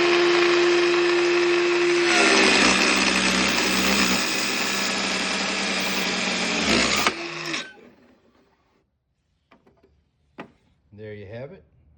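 A Dremel saw station cuts a 45 degree miter with a loud, steady close whine and grinding buzz for about seven seconds, then it winds down to quiet, followed by brief clicks and a short bit of talk.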